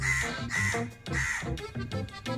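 Crows in Trincomalee, Sri Lanka, caw loudly and repeatedly while gathering around discarded watermelon rinds, harsh calls overlapping in bursts as birds answer one another nearby.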